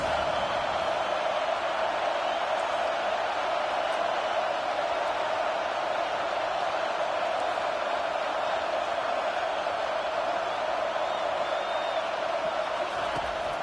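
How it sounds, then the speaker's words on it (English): Stadium crowd noise swells on a third-down defensive stand in the video game College Football 25, a steady, loud wall of roaring fans that holds without a break. "Decibels rising as the crowd gets behind this defense on 3rd down."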